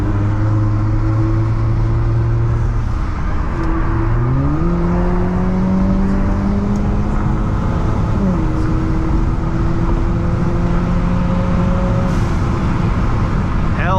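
A modified Acura RDX turbo with a high-flow catalytic converter and resonator idles loudly, then revs up in two rising steps and settles into a steady higher drone, close and continuous.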